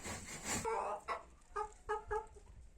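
A hen clucking close by in a shed, a few short rhythmic clucks with a broader squawk at the start, no talking.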